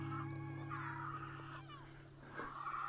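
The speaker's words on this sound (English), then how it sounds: "There's a heron being chased by a seagull." Harsh, honking calls of a heron being chased by a gull, at a distance over a steady low hum, a few squawks rising and falling.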